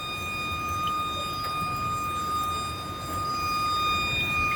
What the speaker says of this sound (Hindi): आवाज आ रही है पानी के सायरन की।